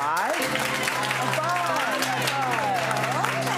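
A game show crowd claps at a Saturday night showdown, a continuous wash of applause running under a loud voice that speaks and exclaims over it for the whole stretch.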